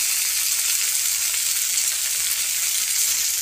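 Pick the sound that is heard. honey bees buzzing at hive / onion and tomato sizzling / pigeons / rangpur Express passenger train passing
onion and tomato sizzling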